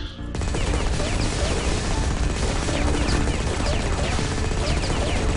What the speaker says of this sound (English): or it's more like a minigun, I should say. Heavy machine gun.